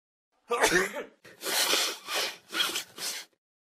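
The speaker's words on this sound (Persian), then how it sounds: "Je tousse un peu" A person coughs up close in a quiet room, with one rough burst followed by a short series of about four coughs.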